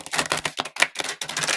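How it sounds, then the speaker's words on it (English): Tarot cardstock being riffle shuffled by hand, a quick series of crisp fluttering flicks in several bursts, close and alone. "I don't know if I can ruffle this cardstock actually."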